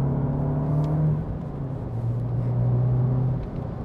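A Fiat Punto's engine droning from inside the car while driving, a steady loud low hum with slight pitch shifts as the revs change, no speech.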